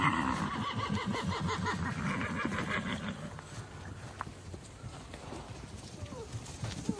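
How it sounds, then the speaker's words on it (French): Horses released by a whistle move between pasture plots, with hooves, snorts and whinnying at a distance, busy at first and then thinning out, under faint voices. "les chevaux vont passer d'une parcelle à l'autre pour avoir de la nouvelle herbe à manger"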